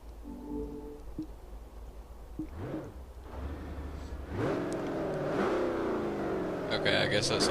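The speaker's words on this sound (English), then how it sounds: "you guys love the sound of this engine" A 5-litre car engine in the Forza racing game revs and accelerates, rising and falling in pitch through several pulls, growing louder toward the end.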